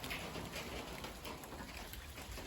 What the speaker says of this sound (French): Mais la neige commence à se mêler à la pluie.